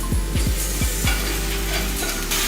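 Garlic fries in a hot pan toward golden brown, a loud, steady, close sizzle broken early by several quick stirring scrapes, with no voices over it.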